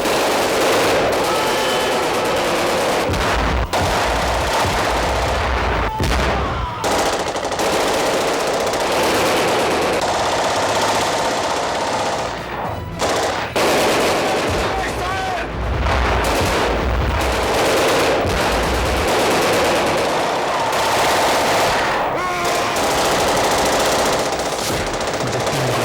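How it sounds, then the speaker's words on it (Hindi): Gunfire in a dramatized horror story: repeated bursts of rapid automatic fire and heavy booming shots, loud and continuous, with brief gaps between volleys. "अचानक गोलियां चलने लगी।"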